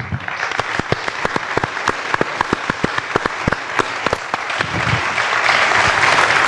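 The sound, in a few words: audience applause at end of a dialogue event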